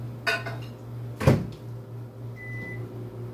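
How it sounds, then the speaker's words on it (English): A microwave door thumps shut and the oven hums steadily while melting butter, with a short beep-like tone partway through. "So we're going to melt this in the microwave."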